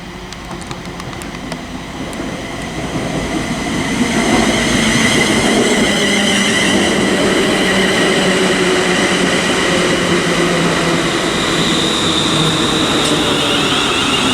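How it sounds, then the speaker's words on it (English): A ScotRail Class 380 electric unit on the Ardrossan Harbour to Glasgow Central service pulls into Paisley Gilmour Street, rumble building over a few seconds into a loud sustained roar with wheel squeal and rail clatter, no voices. "approaching now is the 10:06 ScotRail service from Ardrossan Harbour to Glasgow Central."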